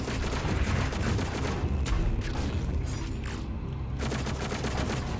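Rapid gunfire in Doom Eternal, dense clattering mechanical shots in quick bursts with metallic ratcheting, loud and continuous, pausing briefly before resuming.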